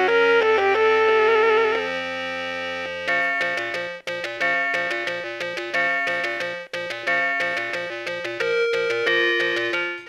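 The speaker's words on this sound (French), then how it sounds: "J'ai entendu le son de la cloche dans l'intro de Zelda Famicom Disk System" Chiming bell-like electronic music from the intro of a Zelda game on the Famicom Disk System, with bright tones that shift from sustained notes into a fast, repeating plucked pattern, loud and clear with no talking.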